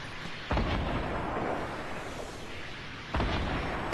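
Rocket explosions in the Fortnite video game, two sharp booming blasts about two and a half seconds apart, each followed by a loud, sustained rumbling roar.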